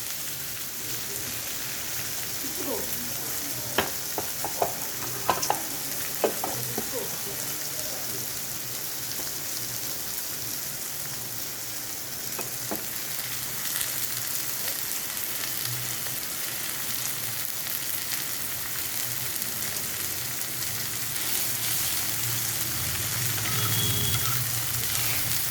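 Flattened rice frying in a pan for chirer polao, a steady rain-like sizzle filling the whole stretch, with a few clicks and scrapes of stirring near the start.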